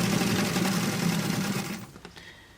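A sewing machine runs in a steady fast whirring buzz while stitching doll clothes fabric, then slows and stops near the end with a few small clicks.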